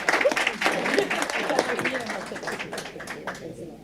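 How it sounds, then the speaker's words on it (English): Applause from attendees at a county board of commissioners meeting, close and fairly loud at first, with distinct individual claps, then thinning and fading toward the end. "let's give them another round of applause"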